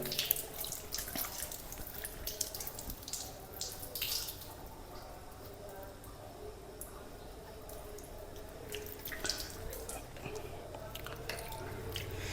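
Water runs and splashes as a left foot is washed during wudu, a steady faucet-like stream with drips and wet squishing, close and moderately quiet, continuing for the full stretch without speech.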